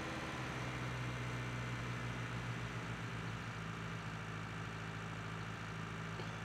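Tractor engine in the farming game Cattle and Crops, a steady low rumbling drone with a constant tonal hum, moderately loud and continuous with no talking.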